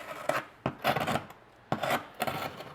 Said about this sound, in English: Listen to how nice this crust sounds.